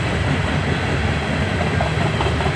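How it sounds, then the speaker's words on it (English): Rail cars of an empty Norfolk Southern coal train roll steadily past up close, a loud continuous rumble and clatter of wheels on track with no talk. "Well, there's the end."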